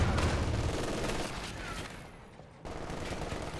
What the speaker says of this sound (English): Double MG42s are causing Treadz some headaches